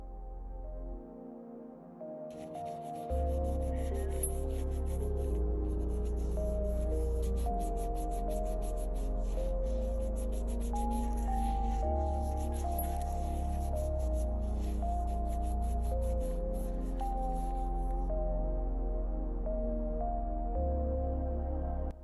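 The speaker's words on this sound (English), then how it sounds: "I'm going to go ahead and wipe away the sticky layer from the polygel using alcohol." Polygel nails being wiped with alcohol to remove the sticky layer, heard as rapid, steady rubbing strokes that run for about fifteen seconds over soft background music.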